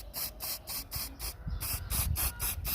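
White spray paint hisses from an aerosol can in a rapid series of short, close bursts, roughly eight quick sprays with brief gaps between them and no talking.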